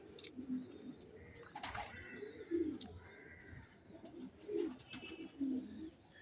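Belgian and Netherlands racing pigeons in a loft give repeated soft, throaty coos in short bursts, close by over faint rustling and shuffling.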